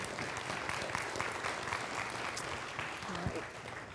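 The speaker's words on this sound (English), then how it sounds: "let's give another warm round of applause to Dr. Young" A lecture audience applauds steadily after a talk on the U.S. defense budget, a dense, even wash of many hands clapping at moderate loudness for the full stretch, with a faint voice briefly audible near the end.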